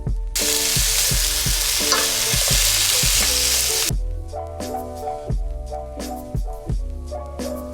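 Onions caramelizing in a pan with balsamic vinegar and sugar give a loud, steady sizzle, then quieter stirring and scraping with low rhythmic clatter in the back half.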